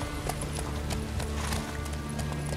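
Horse hooves clip-clop steadily during riding in the video game The Witcher 3: Wild Hunt, a brisk, even rhythm of hoof strikes over a dense low rumble of game ambience.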